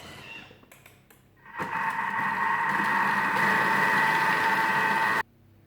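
A kitchen robot mixes a creamy filling for a courgette roll for 30 seconds at speed 4: a steady, close motor whir with a whine that starts abruptly, holds for about four seconds and cuts off sharply, after faint clicks.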